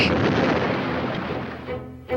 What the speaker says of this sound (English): She just destroyed a building!